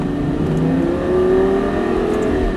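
A Lamborghini Gallardo engine pulls steadily under load on a race track, its pitch rising gradually as it accelerates out of a hairpin, loud and close, with no voices.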